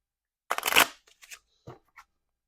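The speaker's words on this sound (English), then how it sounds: "I will give the deck another quick shuffle" A quick riffle shuffle of a deck of cards, a dense burst of flicking followed by a few soft taps as the cards settle, no voices.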